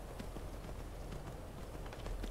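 Galloping hooves of the horse Shadowmere in the video game Skyrim, a steady quick clip-clop running throughout over a dense, constant game soundscape.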